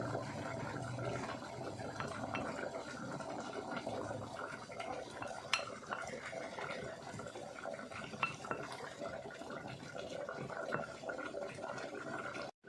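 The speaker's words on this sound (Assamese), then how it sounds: "চ'ডা, নিমখ, মিশ্ৰণখিনি ভালকৈ মিক্স কৰিম।" Flattened rice (chira), salt and mixture are worked together by hand in a bowl, a soft continuous rustle and scrape with light clinks, close and quiet.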